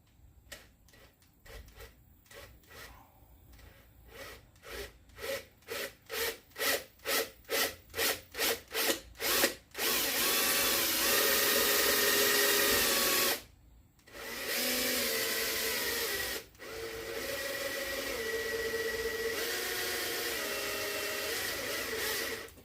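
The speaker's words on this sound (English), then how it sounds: "So yeah, drilling some brand new stuff." A drill bores holes for Advanblack 6.5 color-matched speaker pods, first in a quickening series of short bursts, then in long sustained grinding runs with brief pauses between them.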